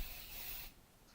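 Hairspray hisses from a can onto hair in one soft, steady burst of under a second, then cuts off into near silence.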